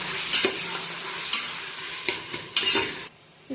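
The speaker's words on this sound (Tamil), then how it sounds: "இப்போது நம்ம தக்காளி ஆட் பண்ணிக்கலாம். நல்லா கிளறி விடுங்க." Tomatoes and onions fry in a pan for chicken biryani while a utensil stirs them, with a steady close sizzle and several sharp scraping strokes before the sound suddenly drops away near the end.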